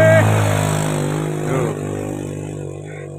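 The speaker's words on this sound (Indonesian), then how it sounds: "Orang sini masih pakai motor itu" A motorcycle passes on a mountain village road near Mount Sumbing, loud at first and then fading as it moves away, with a voice speaking over it.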